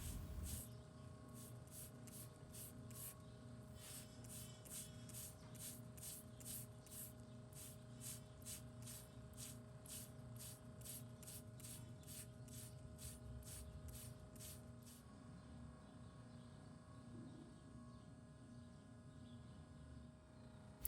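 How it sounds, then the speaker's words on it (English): Water spray hisses steadily while a cow's cracked lateral claw is rinsed clean during hoof trimming, a continuous close broadband wash with rapid rhythmic ticking pulses for most of the stretch before it settles into a plain steady hiss. "Now that I've got that area rinsed out"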